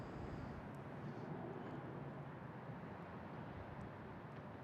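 An airliner takes off at Boston Logan International Airport, heard as a faint, distant, steady broadband roar of jet engines with no voices over it.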